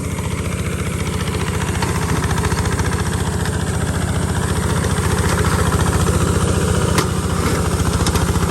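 A 15.5 horsepower diesel 4x4 ride-on mower runs close and loud as it cuts a lead tree, a steady throbbing engine drone with a dense rhythmic pulse and brief sharper clatter near the end, with no talk.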